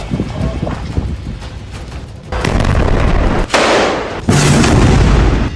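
Explosions and heavy booms from a Burkan missile strike on an army base, with loud rumbling blasts and crackling debris building up in successive bursts, close and intense.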